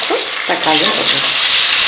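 Tomatoes sautéing in a pan for sambar, giving a loud, close, hissing sizzle that runs throughout beneath a short burst of voice.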